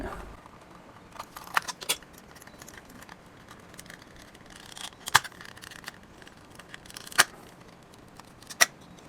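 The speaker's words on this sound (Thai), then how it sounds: "ให้เรา แกะมันออกมาก่อนนะครับไอตัวเมาส์ตัวนี้" A plastic computer mouse casing with a faulty scroll wheel is pried open, giving scattered sharp clicks and snaps over quiet scraping, fairly close and with no speech.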